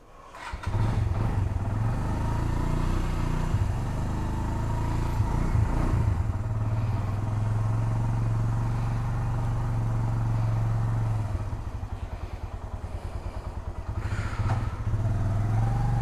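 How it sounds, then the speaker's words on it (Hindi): A motorcycle engine idles and revs close by, then pulls away at the start of a ride from Gilgit toward Astore, loud and continuous with engine clatter and a brief dip near the end. "मोटरसाइकिल रेडी है,"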